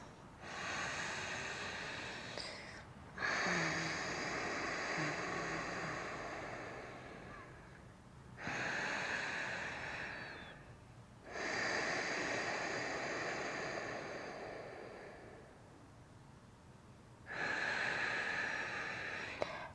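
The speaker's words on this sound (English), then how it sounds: "let's just give us a couple of long, deep breaths" Slow, deep breathing during a yoga routine, with long airy inhales and exhales in alternating breaths of a few seconds each, close and steady with brief pauses between.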